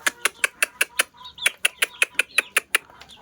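Hill breed chicken chicks peep in a rapid, steady series of sharp chirps close by, pausing briefly midway before the run of calls resumes, with no talk over them.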